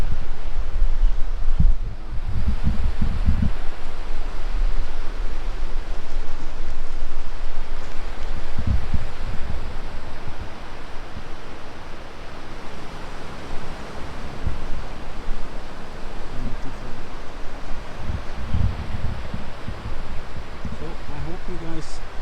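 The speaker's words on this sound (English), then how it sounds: "I love the sound of the ocean." Ocean waves along a seaside shore, a continuous broad wash of surf mixed with wind noise against the microphone, steady and fairly loud, with occasional low thumps.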